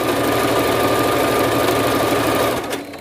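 A sewing machine runs steadily as it stitches elastic thread onto white fabric, a loud, continuous mechanical whir with a fast rhythmic hum, close up, easing off slightly near the end.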